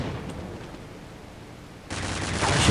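A pirate pistol in the Counter-Strike video game fires after a quiet stretch: a sudden loud blast near the end, with the noise swelling right to the finish.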